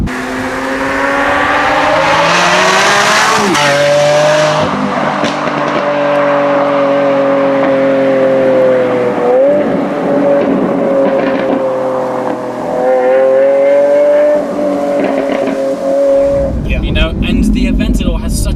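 A Lamborghini Aventador S engine roars and revs continuously, rising and falling in pitch, then cuts to a burst of crackling exhaust at the end.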